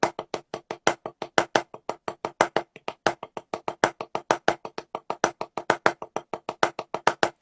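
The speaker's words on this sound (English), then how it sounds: "Okay, so it's kind of an inverted paradiddle diddle," Inverted paradiddle diddle rudiment played slowly on a drum practice pad: crisp, evenly spaced stick taps with alternating accents, repeating in groups of nine, close and alone.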